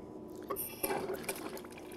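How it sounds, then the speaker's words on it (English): Water begins trickling and splashing into the tank of a Jensorter Model BCM fish egg counter at a hatchery, a faint, close, uneven pour with small drips. "Then start the water flow."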